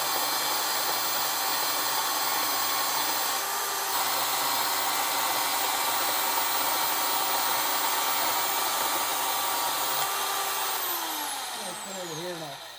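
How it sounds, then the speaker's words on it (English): An angle grinder rounds the point of a steel trellis strut, a steady loud whine with a faint rubbing grind, the pitch dropping as it spins down at the end. "then I'll radius it with the grinder"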